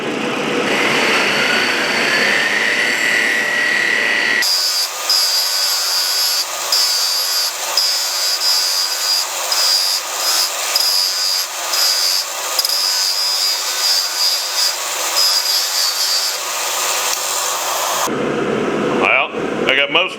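A power tool wire-wheels the bottom of a heated steel tank with a loud, continuous high whirring and scratching grind, briefly changing pitch early on, then cutting off near the end.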